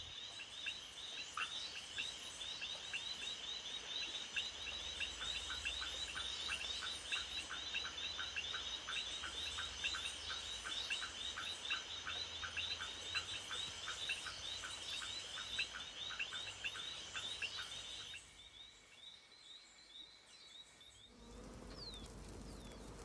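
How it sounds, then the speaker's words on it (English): A chorus of mating frogs calls in dense, rapid repeated trills that carry on steadily for a long stretch before dropping away near the end, with insect-like buzzing beneath and no voices. "In this pretzel of frogs, it's hard to know where one frog ends and another begins."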